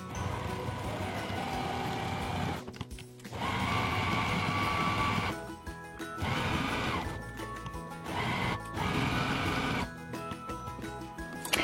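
Sewing machine stitching fabric with a cotton webbing tab, running in bursts with short pauses between runs as the needle pivots around a corner; close, mechanical whirring and clatter.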